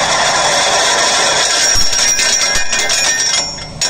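A Maschio shredder powered from the PTO of a Deutz Fahr Agrolux 80 CRDI tractor, chewing up agricultural waste, runs loudly and steadily with a harsh metallic whine and ringing tones, easing off slightly near the end.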